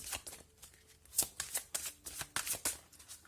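Tarot cards being shuffled by hand, a quick series of crisp riffles and flicks in an uneven rhythm, close and clear with no talk.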